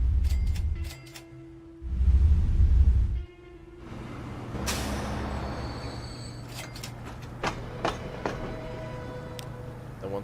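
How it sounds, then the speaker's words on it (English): A modern train in the city-building game Transport Fever 2 sounds two long, loud horn blasts, then rolls on with a steady rumble and scattered clanks of the cars. "The train sounds are really nice."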